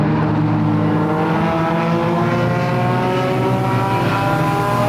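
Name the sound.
race cars lapping Flamboro Speedway enduro race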